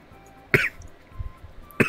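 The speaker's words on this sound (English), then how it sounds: "I coughed up phlegm into the toilet" Two sharp, wet coughs, one midway and one at the end, as someone brings up phlegm over a toilet, with faint low rustling between them.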